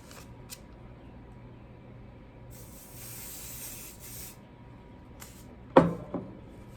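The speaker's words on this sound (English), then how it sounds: "Hairspray." Hairspray misted lightly over a crafted tumbler: a soft hissing spray burst of about two seconds in a quiet room, followed by a couple of faint clicks and a brief handling knock.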